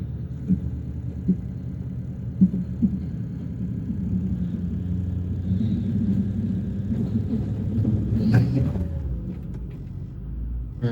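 Engine of a vehicle with a 5R110W transmission held on the brake in reverse, giving a low steady rumble that swells slightly as throttle is added, then eases, close by and alone.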